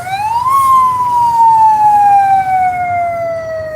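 An emergency vehicle siren sounds loud and close on a road near a rail crossing: one long continuous wail rises sharply, then glides slowly downward, over a steady rumble of traffic.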